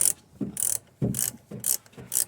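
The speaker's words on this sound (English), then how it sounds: "got my 6mm hex Allen wrench, and ready to turn this thing on" An angled 6mm hex Allen wrench turned on a Ford F250 Super Duty front shock, giving a rhythmic series of close metallic ratcheting clicks in repeated bursts.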